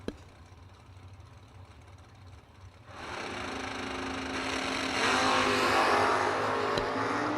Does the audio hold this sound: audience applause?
no